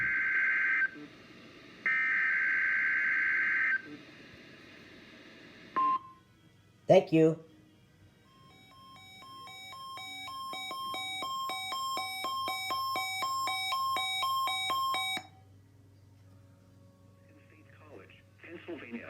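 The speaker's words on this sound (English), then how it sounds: "The tones you just heard were a test of the specific area message encoding and tone alert systems." A NOAA weather radio test plays two short bursts of shrill SAME data tones, then a sharp click and a long, loud electronic tone alert of pulsing, stepping pitches. A spoken voice follows briefly afterward.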